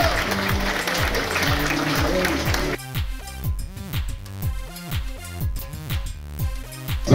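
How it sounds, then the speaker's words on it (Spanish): Audience at a sixth-grade primary school graduation ceremony claps steadily, dense crowd applause filling the opening seconds, then music with a regular beat takes over while scattered clapping continues faintly underneath. "Demos un fuerte aplauso al grupo de sexto."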